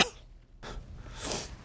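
A sudden cough or sneeze bursts out at the start, followed by a short pause and then two more breathy, throaty bursts, close and fairly quiet with no talking.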